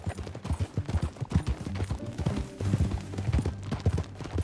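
Horse hooves clip-clop in a quick, uneven rhythm on hard ground in the video game Red Dead Redemption 2, close and fairly loud, with a low rumble underneath.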